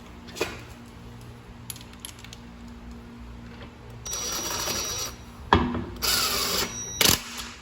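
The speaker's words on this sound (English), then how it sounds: "Secure the lug nuts with the 17 millimeter socket." Lug nuts on a Fiat 500 Abarth rear wheel are tightened with a 17 mm socket: faint ratcheting clicks, then loud bursts of a power tool whirring in short runs, close by, with no speech.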